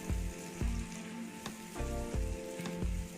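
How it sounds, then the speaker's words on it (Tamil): Tomatoes sauté in a pan for chicken curry under a steady close sizzle, with a few rhythmic scrapes and thumps from stirring and no talk. "தக்காளி நல்லா வதங்கட்டும்"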